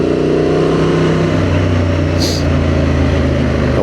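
A 2024 Honda Transalp motorcycle cruises up Main Street in Fort Mill, its engine droning loud and steady with a low hum and rushing wind throughout, no pauses.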